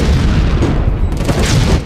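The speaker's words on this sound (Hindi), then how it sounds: "दूसरा धमाका" A loud, close explosion from the Ahmedabad serial bombings, a heavy boom that rolls on as one sustained, rumbling blast and fills the whole moment.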